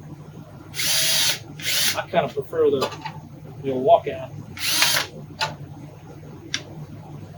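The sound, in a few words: power drill running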